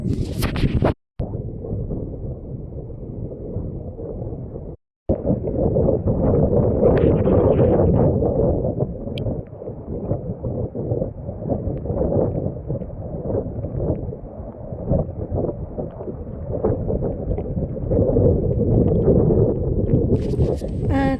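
Steady, strong wind roars close to the microphone with broadband rushing and splashing water throughout, briefly cut by two short dropouts.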